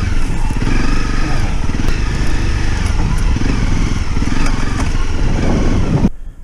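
A dirt motorcycle rides a narrow, overgrown trail, its engine loud and close with a continuous throbbing rumble that holds steady for about six seconds, then drops away abruptly.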